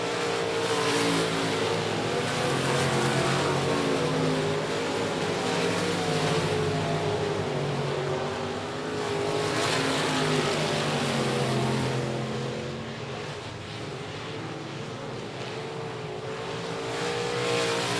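Race cars roar around the I-37 Speedway track in a loud, continuous engine drone that swells and fades slightly as the pack passes along the back straightaway.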